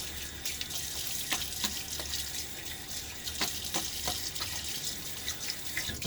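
Water runs steadily from a tap as a razor is rinsed mid-shave, a close, continuous hissing stream with a few small splashes and no talk.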